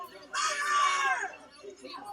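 A crowd screams during violent unrest in Minneapolis, a loud, sustained burst of overlapping shrieking voices lasting about a second before fading into a murmur.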